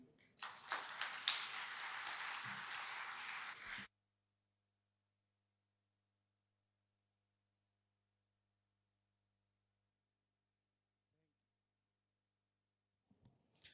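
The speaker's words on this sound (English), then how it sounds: "The applaud which Kalyan received from his students" Students applaud at the end of a conference talk on informal-sector employment, a steady burst of clapping for about four seconds that cuts off abruptly into near silence.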